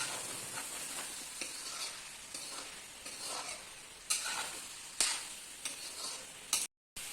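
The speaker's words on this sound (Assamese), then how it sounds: "আলু দিয়াৰ পিছত অলপ দেৰি ভাজি ল'লে" Ash gourd and potato pieces frying in a pan while being stirred, a continuous sizzle broken by repeated scraping and clacking stirs of a spoon, close up, with a brief silent gap near the end.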